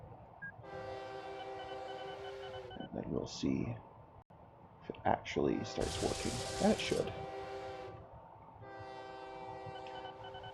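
A train in a railway simulation game rolls along with a goods car coupled, sounding long tonal horn blasts at the start and end over a steady rumble, while a voice talks over the middle.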